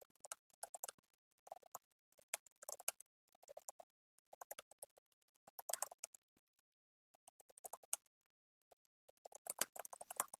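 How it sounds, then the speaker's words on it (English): Someone types on a computer keyboard indoors: quiet, close clicking in irregular bursts with short pauses between runs of keystrokes. "I'm typing something, so forgive me."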